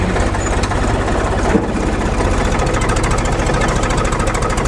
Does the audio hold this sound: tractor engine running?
yes